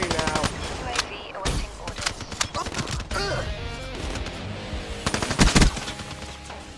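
Rapid bursts of assault rifle fire from the M8A7 and XR2 burst weapons in the Black Ops 3 video game, loud repeated volleys with sharp clusters of shots and brief gaps, dense combat noise throughout.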